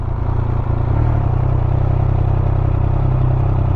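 A Triumph Speed Triple 1200 motorcycle rides slowly in circles with a steady, loud, low engine rumble and a faint clattering idle texture, close and continuous without speech.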